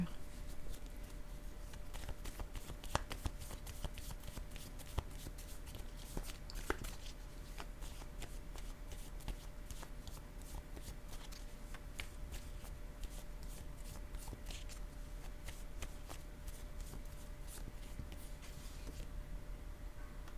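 Playing cards handled, shuffled and laid down on a table during a tarot-style reading: steady soft riffling and shuffling with occasional sharper taps as cards are placed, close and continuous, with no talking.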